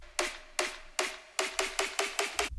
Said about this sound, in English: This is snare roll,